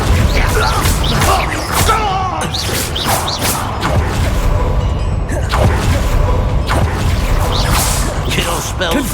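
Bombarda and Confringo spell blasts in the Hogwarts Legacy video game, a dense, continuous stream of loud booms, whooshes and crashing impacts layered over game music and effects, with voices shouting among them.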